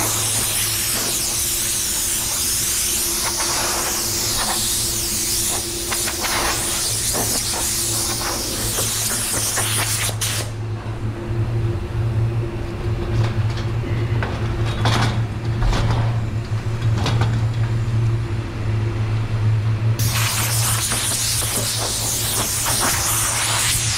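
Adhesion promoter is sprayed onto a raw plastic bumper in a long, steady aerosol hiss over a low constant hum. The hiss stops for about ten seconds midway, then resumes.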